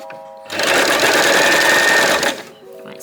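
A sewing machine stitches a dress remake, running steadily for about two seconds in a loud, close whir before stopping, with quiet room sound on either side.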